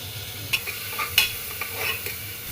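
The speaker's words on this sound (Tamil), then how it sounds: "இப்போ இஞ்சி பூண்டு போட்டுட்டு தக்காளி போட்டு வதக்கிக்கலாம்." Ginger, garlic and tomato sizzling and frying in a pan, with a few light stirring scrapes and clinks over a steady hiss.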